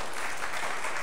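Applause for a string band at a Sunday church service, a brief, steady burst of clapping from the congregation filling the whole moment.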